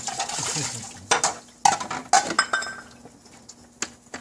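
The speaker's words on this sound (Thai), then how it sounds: "ล้างจาน" Dishes and cutlery being washed by hand: irregular clinks and clatters of plates, glass and utensils, with several sharp knocks and running rinsing noise, close and moderately loud.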